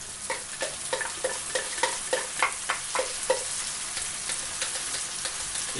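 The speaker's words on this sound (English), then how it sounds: "start adding in the onion and garlic" Onion, garlic and chili fry in a pan for turkey mince samosas, a steady close sizzle broken by a rhythmic series of stirring scrapes that fade toward the end.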